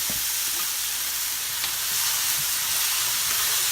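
Beef and broccoli fry in a pan as they're stirred, a dense sizzling hiss punctuated by a few soft scrapes and knocks of the utensil against the pan.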